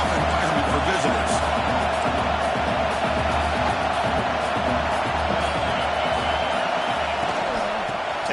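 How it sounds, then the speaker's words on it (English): Stadium crowd roar in a football video game, a steady dense wash of cheering that fills the whole clip at even loudness with faint thumps underneath and no clear pauses. "Listen to the crowd energy here in the early going."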